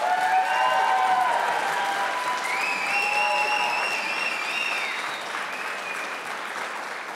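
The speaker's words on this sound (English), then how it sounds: "Round of applause, please." A graduation ceremony audience applauding steadily in a hall, continuous clapping with a few whistles and cheers over it, gradually fading toward the end.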